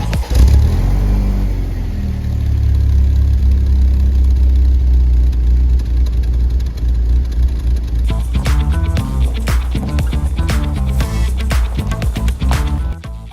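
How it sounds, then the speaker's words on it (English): A BMW Z3 engine idles roughly after being driven too hard, a loud low rumble that wavers unevenly, then turns into a rapid, irregular pulsing for the last few seconds. "after pulling off too fast, it's actually running really badly at idle"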